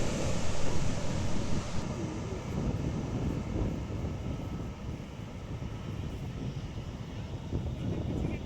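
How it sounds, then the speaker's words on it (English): Steady roar of a Lufthansa airliner with small engines at LAX, heard from a distance amid wind noise as a constant rumble that eases slightly partway through. "It has rather small engines, and it is one of these planes which is typically not in fleets anymore"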